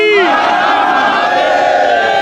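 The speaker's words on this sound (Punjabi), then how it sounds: "ਜੈਕਾਰਾ ਵੀਰ ਬਜਰੰਗੀ" A large crowd at a temple dispute roars a religious jaikara slogan in unison, loud and close, one sustained collective shout that fades out over about two seconds.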